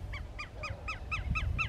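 Flocks of waterbirds at Miramar de Ansenuza, a large salt lagoon in Argentina, give a regular series of honking, goose-like calls, about seven in quick succession, over a low rumbling background.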